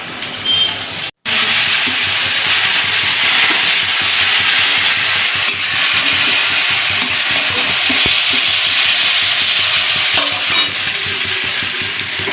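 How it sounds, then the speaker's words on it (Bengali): An egg fries in a hot pan with a loud, steady sizzle that runs on continuously, broken only by one brief dropout near the start. "ডিম এটা ভেজে নিই"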